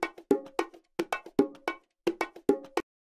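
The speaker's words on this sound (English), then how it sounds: "This is a bongo track here." A looped bongo drum track plays back in Reason software, giving a series of sharp, resonant hand strikes in a quick repeating pattern. The strikes are close, clean and dry, with brief silence between the groups.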